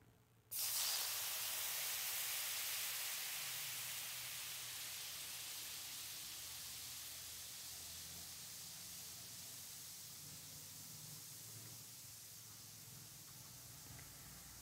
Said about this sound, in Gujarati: થોડા કાજુને બી ફ્રાય કરી લઈશું બસ એક જ મિનિટ માટે કાજુને પણ ફ્રાય કરી લઈશું